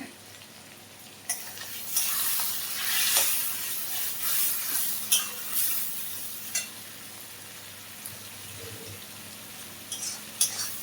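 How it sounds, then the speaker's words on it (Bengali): Katla fish roe sautéing in a pan: a bright frying hiss that swells and fades, punctuated by scattered sharp scrapes and clinks of a stirring utensil, close up with no speech. "ডিমটা কষানো হচ্ছে"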